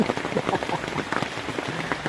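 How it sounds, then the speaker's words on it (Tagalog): Heavy rain pours down in Santa Cruz, Laguna, a dense, close patter of drops striking surfaces that stays loud and constant for the whole moment. "Ganun pa pagdating namin, malakas din ang ulan."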